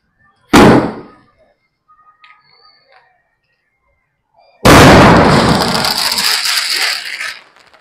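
A Gifted Sky Shot firework being set off outdoors: one sharp near bang, a few faint small sounds, then a loud roaring burst with crackling that dies away over a few seconds. People talk faintly.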